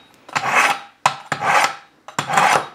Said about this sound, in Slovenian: Bom malo nabrusla najprej nož